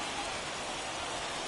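Steady rain hiss falls over a baseball stadium in the video game MLB The Show 21, a continuous even wash of noise with no breaks, under faint crowd ambience.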